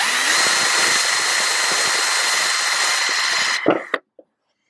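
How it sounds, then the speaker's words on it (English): A power drill with a quarter-inch bit whirs steadily as it bores through material, then winds down and stops with a couple of brief clunks. "I'm using a 1/4-inch drill bit"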